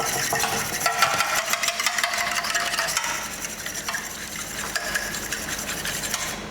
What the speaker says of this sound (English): We've got a couple of eggs in here. Break those up.